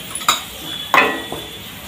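A spice paste with turmeric and red chilli powder is sautéed in a pan for a bitter gourd curry: a soft frying hiss broken by a few sharp scrapes and clinks of a spoon against the pan.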